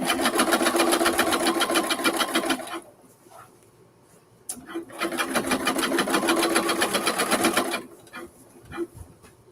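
A domestic sewing machine, in need of oiling, stitching a buttonhole with regular thread: two long runs of rapid, even needle chatter separated by a quiet pause, then a brief final burst.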